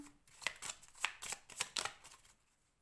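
Tarot cards are shuffled and drawn by hand, a close, soft run of riffling flutters and slaps in quick bursts, fading into silence at the end.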